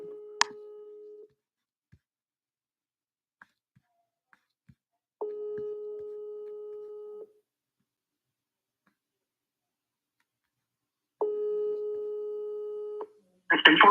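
Telephone ringback tones while placing a call, two long steady buzzing rings several seconds apart amid near silence, with a brief click and a short burst of voice at the very end.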